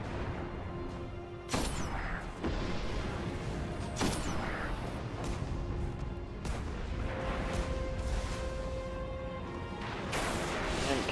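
A grenade in the video game Destiny, with sharp, loud blasts punctuating a dense bed of game battle noise, several booming hits spaced a few seconds apart.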